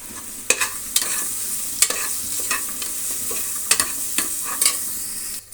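Sliced onions with ginger garlic paste frying in a pan for paneer biryani, a steady soft sizzle broken by several sharp stirring scrapes and clinks of a spoon at irregular intervals, with no voices.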